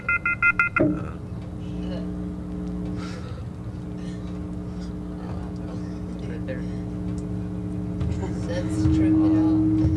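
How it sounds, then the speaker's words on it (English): A payphone keypad gives a quick run of short tones right at the start, then a steady low engine-like drone carries on beneath a voice. "How about I go to a payphone and call?"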